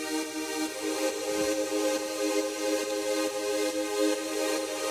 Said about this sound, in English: for the background we have also used some saw pad sounds, some saw sounds, which sounds like this